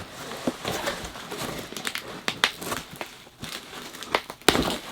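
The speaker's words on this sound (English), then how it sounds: "In bubble wrapped and taped shut." Bubble wrap packaging around collectible figures being handled and pulled open, producing close irregular crinkling and crackling bursts with sharper snaps near the end, no speech.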